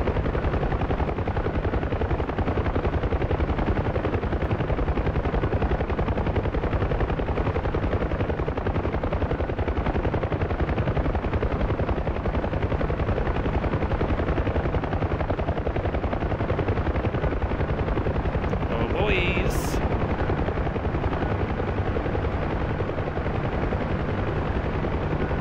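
A helicopter in the Helo Ops game settles into a normal landing, not under fire, its rotor and engine roar steady and loud for the whole stretch, with a brief sharp burst near the end.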